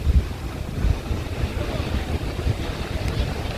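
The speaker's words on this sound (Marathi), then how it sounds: "हे बघा बोट सुटली." A boat leaving the shore for a dolphin ride off Divar Island, Goa: a steady low rumble of motor and water, with wind buffeting the microphone and waves washing nearby, no clear speech.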